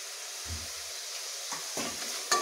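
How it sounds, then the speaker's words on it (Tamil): Tomatoes and mint frying in a pan for vegetable rice hiss gently under a spoon, with a few scraping stirs and a sharper clack at the end, close and alone. "நல்லா கிண்டி விடுங்க"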